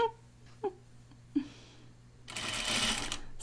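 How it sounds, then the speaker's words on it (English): Sewing machine stitching dress fabric, a short burst of rapid, buzzing machine whir close by, preceded by a few faint clicks and soft sounds in a quiet room. "It sounds like my machine is winding a bobbin, but it's not."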